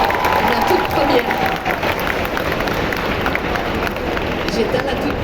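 A large convention crowd at Japan Expo applauds loudly for a voice actress, a dense roar of clapping mixed with cheering and crowd babble, close and continuous.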